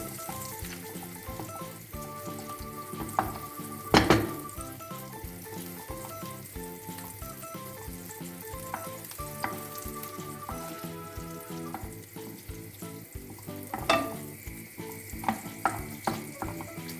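Butter melting and sizzling in a pan on a small stovetop burner, a steady low crackle and hiss with occasional louder spits and clinks of stirring throughout, no talking.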